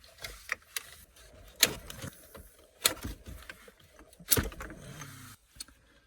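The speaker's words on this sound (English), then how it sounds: "Now we have to unplug it from the back." Wiring connectors are pulled from the back of a Toyota RAV4 stereo, giving a handful of sharp plastic clicks and snaps with rustling handling noise between them, close and fairly quiet.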